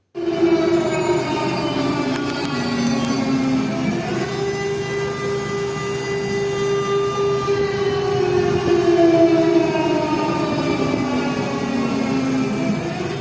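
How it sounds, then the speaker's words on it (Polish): An air raid siren sounds during a wartime alert in Lviv, Ukraine: a loud, sustained wailing tone slowly rises and falls in pitch and carries on steadily throughout, with no talking. "Увага, громадяни! Повітряна тривога."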